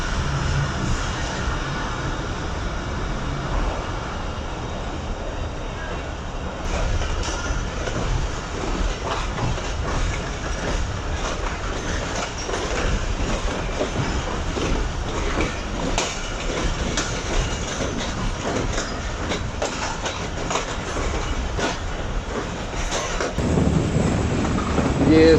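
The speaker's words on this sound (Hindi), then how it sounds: "हमेशा की तरह ट्रेन कोटी जंक्शन से मरी हुई स्पीड से पास हो रही है इस वक्त।" Shalimar Express train rolling slowly through Kotri Junction, with a continuous rumble, rhythmic clickety-clack of wheels over rail joints and wind noise, heard from inside the moving train for the whole stretch.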